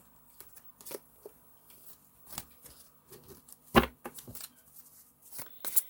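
Quiet, scattered riffling and soft card snaps in short bursts, with a sharper slap near the middle and another at the end; no talking.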